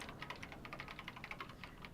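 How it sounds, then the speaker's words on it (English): Rapid keyboard typing in the Danganronpa video game, a steady stream of quick, crisp key clicks running continuously and fairly close, with no voices. "Kylie began typing, the words appearing as fast as I could read them."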